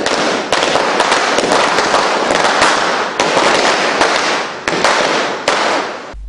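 Firecrackers burst in front of a cinema theatre in Kattappana as fans celebrate a film release: a loud, dense, continuous crackling barrage punctuated by sharper bangs, close and without voices.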